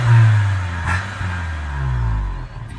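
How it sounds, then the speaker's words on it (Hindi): Modified, stance-built Suzuki Cultus engine running loud and close, a steady low rumble rising into a short rev around the middle and again near the end, with no voices. "तो अभी बस स्टार्ट करके दिखाते हैं, गाड़ी स्टार्ट हो गई है।"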